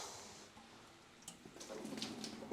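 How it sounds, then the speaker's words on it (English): Water is poured onto the root balls of plants in a hanging basket, a soft, steady trickle and splash that grows slightly louder toward the end, quiet and close. "so we're gonna water some root balls"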